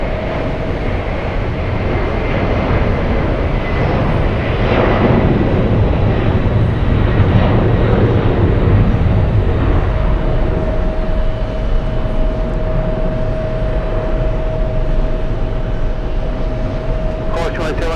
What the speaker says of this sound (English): this might be it. Oh, it's an A320.